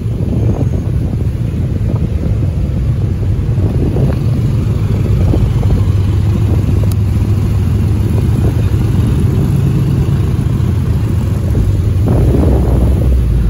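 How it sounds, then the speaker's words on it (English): A twin-turbo Lamborghini Huracan passing in pouring rain, its engine a steady loud roar blended with heavy wind buffeting on the microphone and road spray, with no clear separate pass-by peak. "Oh, twin turbo Lamborghini Huracan."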